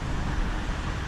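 Steady traffic rumble from a road passing overhead, heard from beneath it beside a creek pool, forms a dense, continuous low roar with no break and no voices.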